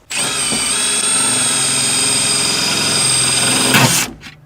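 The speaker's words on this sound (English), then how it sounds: "I use a couple of self-tapping, self-drilling screws to do it." A power drill driving self-tapping, self-drilling screws whines steadily at high speed for several seconds, then bogs down and stops as a screw seats, loud and close.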